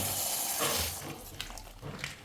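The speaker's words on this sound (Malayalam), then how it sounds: "പാലും പഞ്ചസാരയും പാലും ഒഴിക്കുക" Milk poured with sugar into a mixed fruit juice in a home kitchen, a steady broadband liquid stream lasting the full moment, fairly close, with a few splashy surges near the end and no talking.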